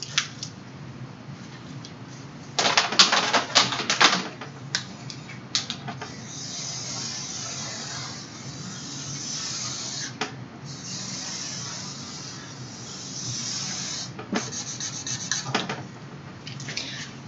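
A pen or marker sketches a gated channel diagram, giving close scratchy strokes and rubbing squeaks that come in short bursts with quiet pauses between.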